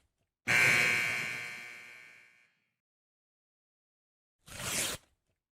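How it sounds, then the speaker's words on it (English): A loud electronic game buzzer sounds once with a long decaying blare, then after a pause a second shorter buzz, both alone with no talk. "my first time hearing the buzzer sound though"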